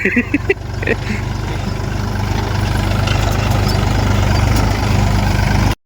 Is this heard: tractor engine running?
yes